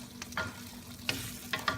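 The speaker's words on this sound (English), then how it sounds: "The vinegar is boiling now, so we can give it a good stir now." A pot of boiling vinegar for lechon paksiw being stirred, with scraping strokes of a utensil against the pot over a steady bubbling simmer, close and fairly loud, no talking.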